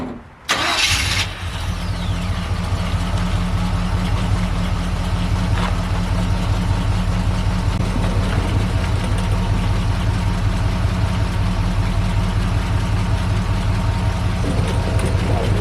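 A Chevy C10 Squarebody pickup's engine cranks briefly and catches, then settles into a steady, rumbling close-up idle that runs to the end.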